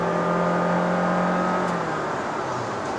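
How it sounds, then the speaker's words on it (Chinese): A 2022 Honda City 1.5L RS e:HEV i-MMD hybrid accelerating hard under deep throttle on a road, heard from inside as a steady, loud engine and motor drone with a rising tonal whine throughout. "比如说我一脚油门再踩深一点"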